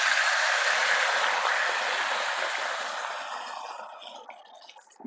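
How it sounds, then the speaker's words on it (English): Water is poured into a hot pan of stir-fried spare ribs, a loud rushing hiss and sizzle that fades over a few seconds. "Add some water."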